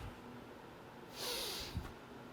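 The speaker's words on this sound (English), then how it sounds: "You're gonna exhale, you're gonna squat on the exhale, and then inhale on the up." A single forceful breath exhaled during a squat as part of a breathing drill in combat training, a short airy rush heard close and alone, followed by a faint catch of breath.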